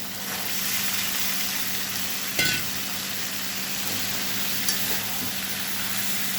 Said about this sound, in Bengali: তেলের সঙ্গে ভালো করে কষিয়ে নেবো। তারপরে কাঁচা লঙ্কা চিড়ে দেবো। এরপর লতিটা ছেড়ে দেবো।